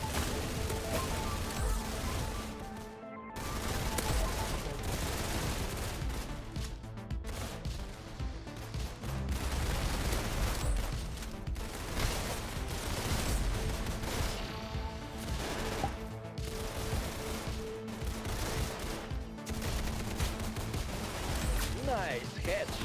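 Dense, continuous gunfire from the Roblox shooter Arsenal in a gun-game mode, with rapid shots and bursts running throughout at steady high loudness while a voice talks over the action.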